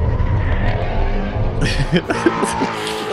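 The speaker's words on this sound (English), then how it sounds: "It sounds like the devil made the motor. It's the most evil sounding car." A 2016 Ford Mustang race car's engine roars loud and close, a dense continuous growl with rising revs near the end, while people talk over it.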